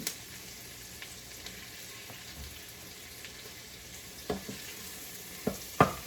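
Butter frying in oil in a pan gives a steady, soft sizzle with occasional louder pops and crackles near the end, with no talk.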